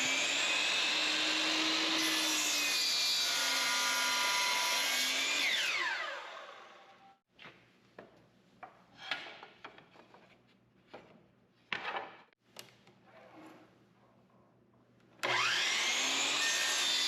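A workshop dust collector runs with a loud, steady roar, then cuts out, leaving a few scattered clunks and knocks in a quiet wood shop before the steady roar starts up again near the end.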